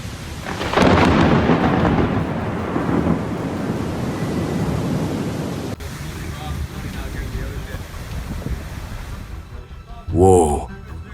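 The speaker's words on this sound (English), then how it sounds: "Not once, but twice, lightning struck a midtown building during the storm" Thunder rolls loud and broad during a storm after lightning strikes a midtown building, a long rumbling crash that fades into rain and wind noise, with a brief sharp burst near the end.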